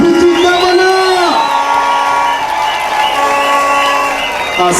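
A crowd at a public gathering for the deputy governor of Vihiga cheers, whoops and claps continuously, with loud, sustained voices and tonal calls filling the space throughout.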